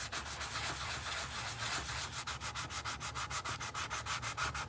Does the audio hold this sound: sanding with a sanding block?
yes